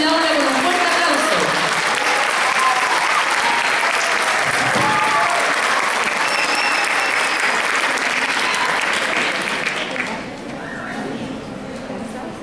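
A school festival crowd at a tribute concert gives the singer a loud, sustained round of applause lasting about ten seconds before it thins and fades.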